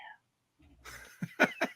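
A brief voice fades out, then a quick series of three or four harsh coughs follows close to the microphone.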